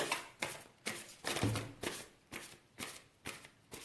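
Large tarot cards being cut and handled, giving a steady series of about eight crisp papery riffling bursts in an even rhythm, close and clear with no voices.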